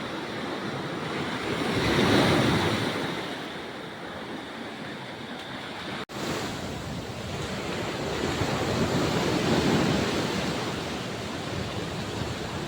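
Powerful ocean surf crashing and rolling in continuous roaring washes, with wind rushing across the microphone; no voices.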